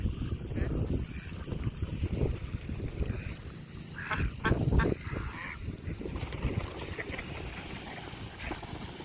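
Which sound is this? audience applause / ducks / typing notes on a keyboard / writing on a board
ducks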